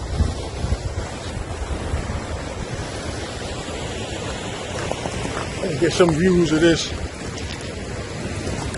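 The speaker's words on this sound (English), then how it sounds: "see this raging water" Steady roar of raging water from the waterfall at Southford Falls State Park in Southbury, Connecticut, heard up close as a broad continuous rush with some wind buffeting the microphone, while someone speaks briefly over it.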